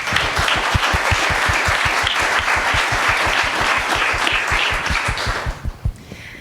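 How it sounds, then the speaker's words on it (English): A TEDxVienna panel audience claps for Eva, loud, close applause with a strong rhythmic pulse of synchronized claps that thins out and breaks into a few scattered claps at the end. "So big round of applause for Eva."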